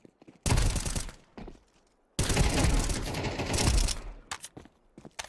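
Counter-Strike gunfire in two long, loud automatic bursts with brief gaps and a few short shots near the end, with no voices over the shooting.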